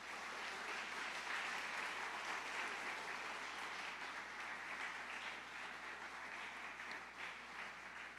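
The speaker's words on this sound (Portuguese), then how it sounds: "Aplauda ao Senhor nessa manhã" A church congregation applauds during a morning service, a dense, continuous wash of many hands clapping together. The applause holds at a steady level throughout, with no talking over it.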